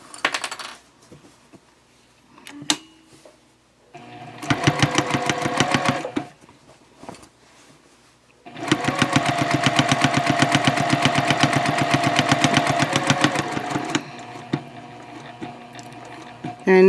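A sewing machine stitching a fabric shopping bag, running in bursts: a short run, a longer run, then a sustained rapid whirring stretch, with quiet pauses and small clicks between as the fabric is pivoted.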